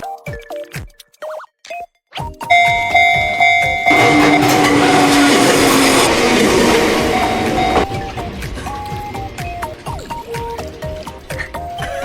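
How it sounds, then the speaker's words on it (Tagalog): A train in Kamakura, Japan rumbles past close by with a loud rushing roar and metallic squeals and clatter, fading back to lighter ambient noises afterward. "Ayan, tignan niyo ulit yung pagdaan ng tren."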